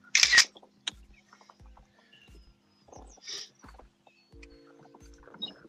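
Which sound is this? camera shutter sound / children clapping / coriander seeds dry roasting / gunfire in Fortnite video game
camera shutter sound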